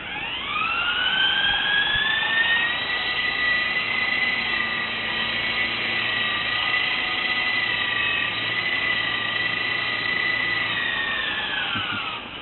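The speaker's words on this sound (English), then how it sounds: "When it comes to indoor flight, this is a really nice little helicopter" An E-sky Coco Lama 2 small RC helicopter flies indoors with a loud, steady high-pitched motor and rotor whine that rises at the start, holds, then dips slightly at the end, with no talk.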